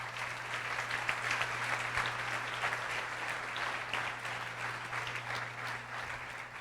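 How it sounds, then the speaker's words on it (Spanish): A church congregation at a Sunday service breaks into steady, moderately distant applause that carries on throughout, with no talking over it. "Denle un aplauso al Rey,"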